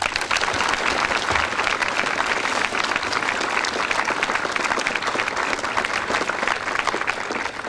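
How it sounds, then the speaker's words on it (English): A crowd at a school Founders Day gathering applauds the academy's board of directors with steady, dense clapping that holds at full strength for the whole stretch. "Please give them a round of applause."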